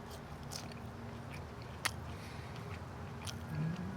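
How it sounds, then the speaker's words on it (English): Biting into crispy fries dusted with processed cheese powder, one sharp close crunch followed by quieter chewing against a low background hum. "Wow, the fries are crispy."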